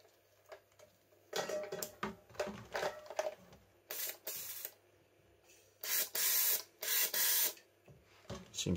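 A BMW E46 fuel injector firing in short bursts during a cleaning test, spraying with sharp hissy pulses at uneven intervals, some longer, over a faint steady hum, with no talk.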